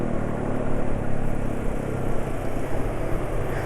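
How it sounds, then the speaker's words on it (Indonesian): A Honda automatic scooter with a loud racing exhaust rumbles steadily, a deep, rough drone with slight surges in the revs. "ini knalpot racing rambat"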